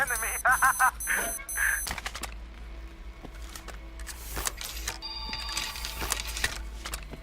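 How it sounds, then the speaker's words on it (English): A cell phone rings in Metro Exodus, a series of bright, repeated electronic trills near the start over a low droning hum, followed by an electronic announcement voice and scattered clicks. "Is that a cell phone?"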